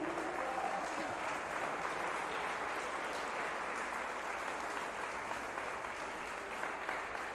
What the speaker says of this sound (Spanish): Dele ese aplauso fuerte al Señor.